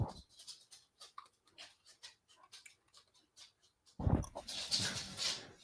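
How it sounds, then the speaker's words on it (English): Dog panting in quick, soft, regular breaths with faint whimpers, close by in a quiet room, ending in a louder burst of movement or noise. "Hopefully my dog has calmed down now."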